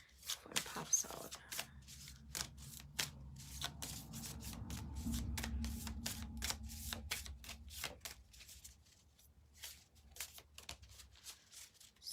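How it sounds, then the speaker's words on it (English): A new deck of cards is shuffled by hand, producing rapid riffling clicks and soft rubbing swishes in quick bursts over a dozen seconds, close and fairly quiet. "So I'm just going to shuffle and see what pops out."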